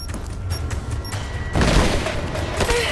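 A grenade explosion and gunfire in Rise of the Tomb Raider: a loud, continuous rumble of rapid shots gives way to a heavier booming blast that swells midway, all close and dense.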